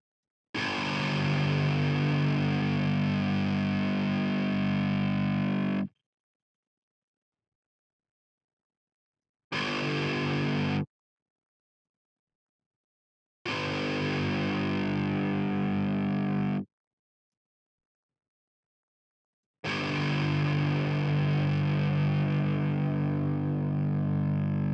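Thick, heavily distorted rock guitar layer for a neurofunk track, run through a tube compressor, playing in several bursts separated by silences, dense and loud with a squeezed, compressed feel.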